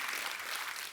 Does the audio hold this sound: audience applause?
yes